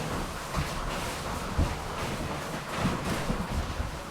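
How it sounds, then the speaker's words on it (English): Hard rain pouring down during an outdoor ride, a loud, continuous hiss of falling water with buffeting wind noise and occasional low thumps. "Raining quite hard."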